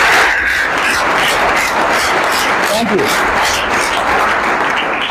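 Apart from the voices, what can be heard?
audience applause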